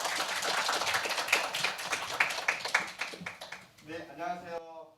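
Audience clapping to welcome the opening of a 2020 community residents' assembly in Songdo, a steady patter of many hands for several seconds that thins out as a voice begins speaking at the end.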